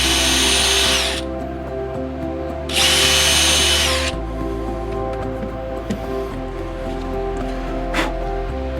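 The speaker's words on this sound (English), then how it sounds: "This is one of those times multiple drills is nice to have with an impact driver." A 12-volt cordless drill and an impact driver drive screws into a wooden crate. The motor whirs loud and close in steady runs, with short revving bursts that start and stop and a few sharp knocks between them. No one speaks.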